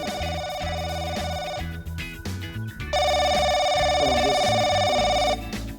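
A telephone rings in two long bursts of bright bell tones, loud and clear. Background music continues beneath the rings.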